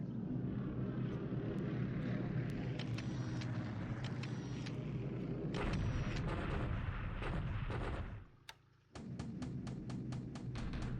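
Aerial bombing in the War in the Pacific strategy game, a dense continuous rumble of engines and explosions that drops out briefly near the end before a run of sharp repeated bursts resumes.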